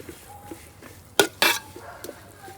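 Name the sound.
stirring spice powders in a pan for chicken curry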